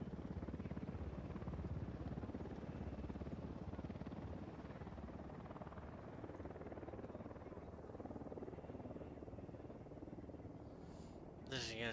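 A steady helicopter rotor drone in Ghost Recon Wildlands, a continuous buzzing hum that holds at even strength throughout, with speech faintly over it and a brief sharp noise near the end.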